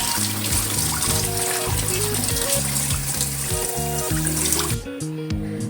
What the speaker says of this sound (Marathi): आता ह्याला छान नळाखाली स्वच्छ धुवून घेऊयात